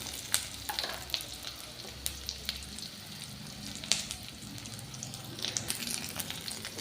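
Garlic and ginger fry in hot oil for a ridge gourd chutney, a soft close sizzle broken by sharp crackles and a few spoon-scraping stirs, fairly quiet with no talking.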